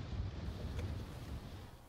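Strong wind from a powerful typhoon, Typhoon No. 11, roars continuously in Naha, Okinawa, buffeting the microphone with a deep, steady rumble and no voices.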